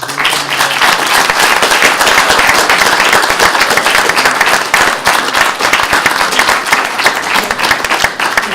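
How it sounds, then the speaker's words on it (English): An audience at a youth question time event in Blackpool breaks into sustained applause, dense and loud clapping from a sizeable crowd that continues steadily throughout without pause. "So I'd like to finish, please, with a round of applause for everybody."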